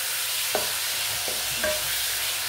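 Chicken and vegetables sizzle steadily in a pan while a utensil stirs them, giving three soft scraping clacks over the constant frying hiss, no voices.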